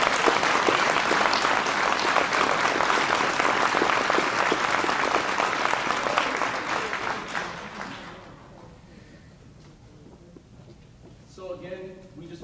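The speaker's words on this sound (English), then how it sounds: "One more round of applause for them." A crowd applauds at the 2018 Miss Gibbon coronation pageant, dense sustained clapping for about eight seconds that fades away, followed by a quiet stretch and a brief voice.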